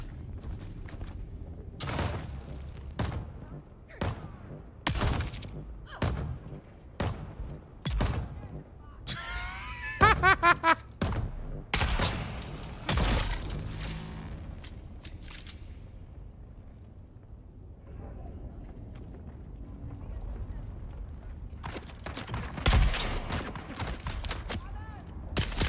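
Rapid bursts of turret and pistol gunfire in the video game Dune: Awakening, sharp repeated shots in clusters with a louder flurry near the middle, then fading to quieter game ambience and scattered sounds.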